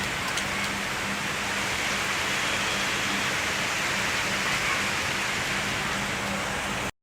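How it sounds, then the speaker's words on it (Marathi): Heavy rain pours down steadily in a cool wind, a dense, even wash of noise that stays loud and unbroken for several seconds before cutting off abruptly. "आता एकदम थंड वारा सुटला आहे, कारण आता खूप जोरदार पाऊस चालू आहे."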